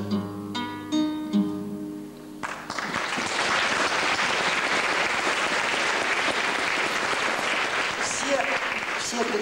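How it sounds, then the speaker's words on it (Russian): An audience applauds the author of a song, a broad crowd clapping that swells in after a few seconds of musical notes and then holds loud and steady to the end. "Аплодисменты автору этой песни"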